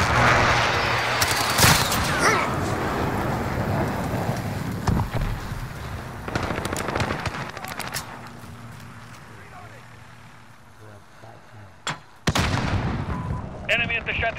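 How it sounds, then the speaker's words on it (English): Allied precision airstrike explosions in Call of Duty Modern Warfare, a run of loud booms and gunfire-like blasts rolling through the scene, with sharp bursts near the start, middle and end and voices talking over the din. "Allied precision airstrike incoming."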